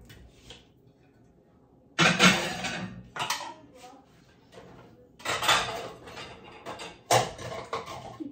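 Dry, washed dishes and cutlery clink and clatter in several bursts as they are put away in a home kitchen, with pauses between the bursts and someone talking.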